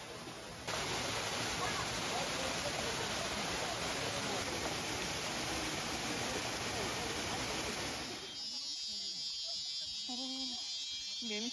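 Erawan waterfall in Kanchanaburi, Thailand, roars as a loud, steady rush of water for several seconds before cutting abruptly to quieter ambience with a voice speaking.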